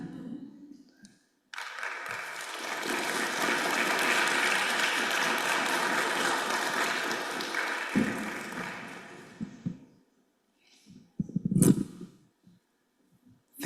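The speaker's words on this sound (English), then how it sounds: "Let's give him one last round of applause" Audience applause after a campus presentation, starting abruptly, swelling to a steady dense clapping for several seconds and then fading, with brief speech fragments before and after.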